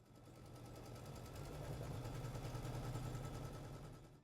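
Steady, fast-cycling hum and needle chatter of an embroidery machine stitching an applique placement outline, running continuously at an even pace, fairly quiet and close.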